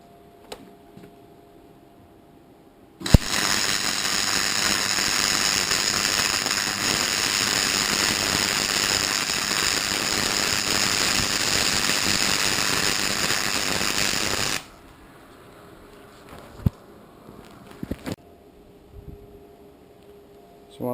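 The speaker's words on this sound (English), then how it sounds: "I like to flip it up on the side, so it's just a bit easier for me to run the weld along the edge." A steady, loud crackling buzz of welding runs for about twelve seconds as a leg is welded along the edge of a metal fire drum, then stops abruptly, leaving quiet handling sounds.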